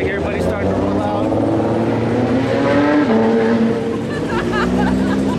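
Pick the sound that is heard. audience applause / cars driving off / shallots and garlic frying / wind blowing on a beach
cars driving off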